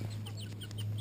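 Chickens cluck in a video game, a string of quick high chirping clucks over a constant low electronic hum, with no talk during it.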